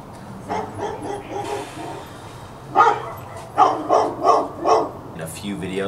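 A dog barks and yips indoors, with a few bursts early on and then a run of four or five close, loud barks near the end, while someone speaks in between.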